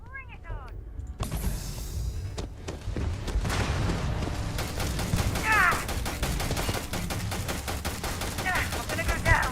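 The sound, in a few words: gunfire in the video game Starfield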